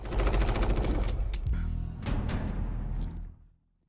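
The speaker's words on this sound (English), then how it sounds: "So we're shooting people now." Loud gunfire from a Stranger Things episode, a dense burst of rapid shots and booming impacts lasting about three seconds, then cutting off sharply.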